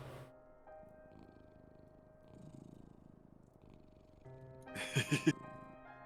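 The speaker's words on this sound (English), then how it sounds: "The purring, the kitty purrs." A cat purrs in a soft, steady, low rumble that stays quiet, with a brief louder burst toward the end.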